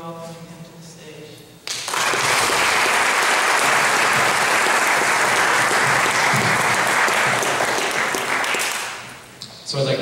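A lecture audience breaks into sustained, dense applause welcoming a speaker to the stage. It starts abruptly after a brief voice, holds steady and full for several seconds, then tapers off.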